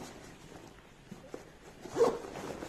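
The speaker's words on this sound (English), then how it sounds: "There are air vents which open with the help of a zip." A zip being pulled to open an air vent on a red Axor JK 48 motorcycle riding jacket, a short soft ratcheting rasp close by, rising to a brief louder pull near the end.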